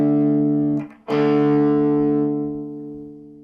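Electric guitar played loud through an amplifier's distorted channel, a sustained fuzzy chord that cuts off briefly, is struck again and rings out, slowly fading.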